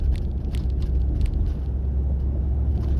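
Vehicle with a modified exhaust idling after a warm startup, a steady low rumble with some faint higher clicks, continuous and fairly close.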